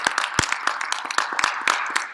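Scattered claps ring out from an audience, a steady patter of applause with some sharper hand claps standing out.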